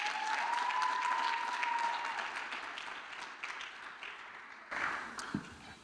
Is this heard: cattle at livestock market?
no